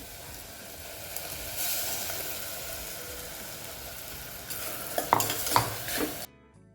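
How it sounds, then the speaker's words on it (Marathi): Spinach khichdi with palak purée sautéing in a pan, a soft continuous sizzle joined by a few sharp spoon scrapes and knocks near the end before cutting off. "हे आपल्याला 1-2 मिनिट परतून घ्यायचे"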